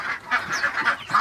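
Young muscovy ducklings in an indoor pen give repeated high, nasal calls in short overlapping bursts, close and fairly loud, with no voices.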